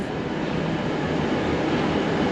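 A single-deck train bound for the Hunter Valley rumbles at an Australian railway station, giving a steady broadband roar with no break and no voices.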